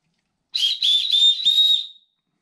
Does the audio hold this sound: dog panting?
no